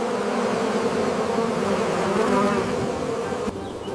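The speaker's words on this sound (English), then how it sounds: "Bees work together, in and out of the hive." Bees buzz steadily and loudly near the hive, a dense continuous drone with no voices, dipping slightly at the very end.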